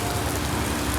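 Steady rain falls in Pokhara, Nepal, a dense, even hiss of drops on surfaces that stays loud and constant for the whole second with no voices.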